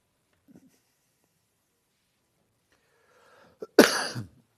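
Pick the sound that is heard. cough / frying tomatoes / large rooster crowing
cough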